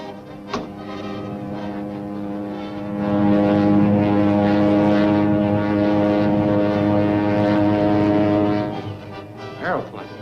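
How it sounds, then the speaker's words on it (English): Propeller aeroplane droning overhead, a steady, harmonic engine hum that swells louder in the middle and fades toward the end, with brief noises at start and finish. "Aeroplane. There ain't no regular route over this town."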